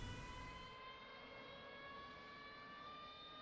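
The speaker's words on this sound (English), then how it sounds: "the aircraft is now spooling up, as you can see and hear" Aircraft engine spooling up toward 92% RPM: a faint, steady high-pitched whine with several sustained tones over low rumble, with no talking.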